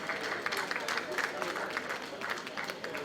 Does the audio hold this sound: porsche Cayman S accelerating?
no